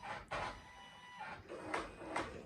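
An embroidery machine scans before stitching a shirt neckline, giving a few soft, brief mechanical whirs and clicks spaced about half a second apart, quiet and alone with no talking.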